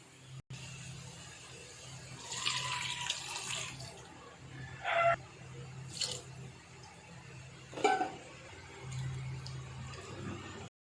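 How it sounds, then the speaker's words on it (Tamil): Water splashes and pours into a pot in a few short spurts, with quiet clinks between them. "அதனால நான் ஒரு டம்ளர் அரிசிக்கு 2 டம்ளர் தண்ணி ஆட் பண்ண போகிறேன்."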